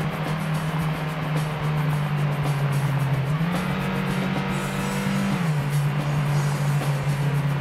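A racing car in Ford Racing on PlayStation One, its steady engine drone rising in pitch as a rival surges past, then settling back, with constant close engine noise throughout and no talking.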